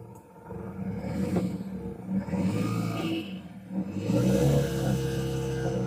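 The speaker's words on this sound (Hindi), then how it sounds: "गाड़ी को करते हैं क्रैंकिंग, तो गाड़ी अपनी स्टार्ट हो गई।" A BS6 Tata Ace Gold mini truck with a P0627 fault code starts after cranking, its engine catching and settling into a steady, fairly loud idle with some revving, no voices.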